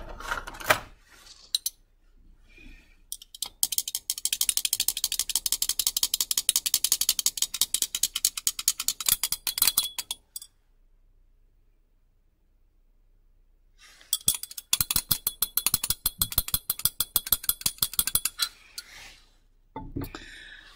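A solution is stirred briskly in a glass test tube, rapid rattling clinks coming in two long bursts separated by a quiet pause, with a few isolated taps at the start and end.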